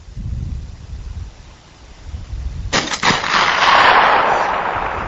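A single powerful M82A1A .50 caliber rifle shot fired outdoors at a pane of 3/4-inch bullet-resistant glass, a sharp loud crack followed by a rolling, wind-buffeted roar and lingering noise.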